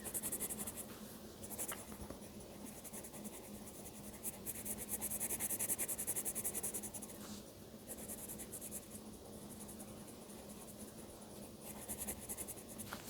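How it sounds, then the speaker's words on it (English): A green colored pencil scratches steadily across paper with a light touch while a drawing is colored in, a soft continuous rasping close by that swells and eases with the strokes. "And I'm turning my pencil and I'm using a light touch"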